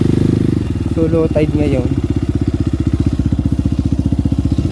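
A motorcycle engine idles close by with a loud, rapid, even putter, while someone talks briefly over it near the start.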